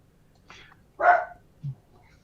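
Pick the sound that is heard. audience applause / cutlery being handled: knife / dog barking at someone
dog barking at someone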